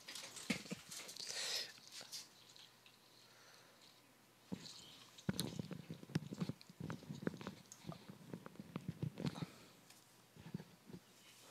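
A dog in the video game The Last of Us Part 2, with scattered growls, scuffles and sharp impact sounds over quiet, irregular background noise.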